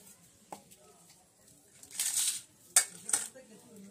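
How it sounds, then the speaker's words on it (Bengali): A kadai (wok) is set down on a kitchen stove to heat, giving a few sharp metallic clanks and scrapes, with a brief clatter midway and two bright knocks near the end, all against a quiet background. "কড়াটা ভালো করে চাপাই, আগে গরম হোক"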